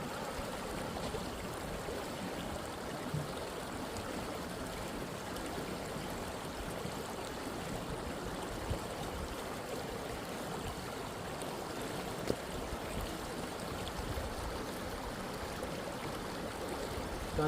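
Water flows steadily over a road bridge, a constant rushing, hissing wash at moderate distance with no voices.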